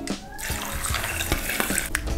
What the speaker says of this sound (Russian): Заливаю все пол-литра воды